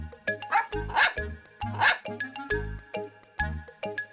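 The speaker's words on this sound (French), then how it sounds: "Snuffy aboya gaiement." Cartoon dog Snuffy yips cheerfully in two quick, close barks, set against bouncy bell-like musical notes that keep a steady tinkling rhythm throughout.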